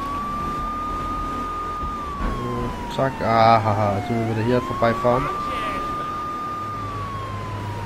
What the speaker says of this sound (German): Polizeiauto